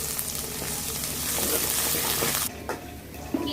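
Spices and chilli powder frying in hot oil in a home kitchen, a loud continuous sizzle with stirring scrapes that drops off sharply partway through, followed by quieter clinks and handling noises.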